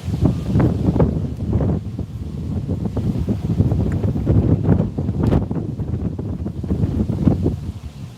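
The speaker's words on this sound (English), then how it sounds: "Wow, here's that wind again." Gusty outdoor wind buffets a microphone with constant low rumble and rough bursts throughout, loud and close, with no voices.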